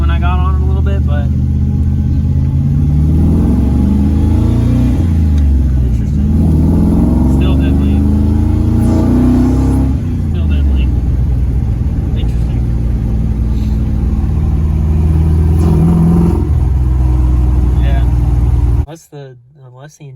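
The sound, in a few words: engine revving that won't rev properly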